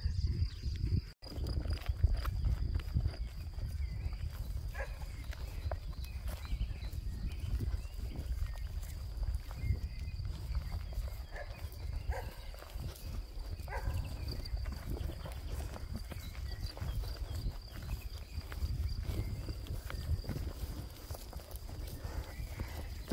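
Horses moving from a large meadow up to a mountain pasture make soft, scattered hoof thuds and shuffling on grass. Low wind or handling noise runs underneath, faint and fairly close throughout.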